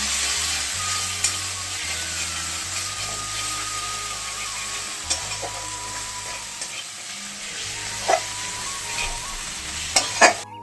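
Spices with chili powder and salt sauté in a pan, giving a continuous close sizzle with a spoon scraping and stirring, plus a few clinks near the end and a low hum underneath.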